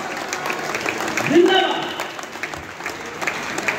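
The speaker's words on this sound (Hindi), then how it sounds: "ये पीछे के लोग जो हाल खड़े करके ताली बजाकर मुझे आशीर्वाद दे रहे हैं" A Hindi poetry recital audience claps and cheers, a dense, steady burst of applause from a large crowd that swells near the middle, then thins out.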